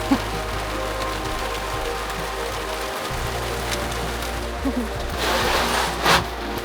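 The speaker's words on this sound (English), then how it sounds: "We're getting hit with the rainstorm after all." Steady rain from a rainstorm drums on a boat, a dense continuous hiss with close drips spattering near the end. The rain plays alone with no voices.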